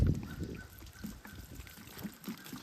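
Water is poured onto a black walnut log to rinse off sawdust, giving a soft, close trickling and splashing with a few small drips over quiet outdoor background.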